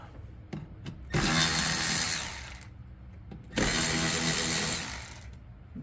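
Two loud bursts of an impact-style power tool zipping bolts off a 1971 Chevelle SS, each running about two seconds with a short pause between, accompanied by faint clicks and shop noise.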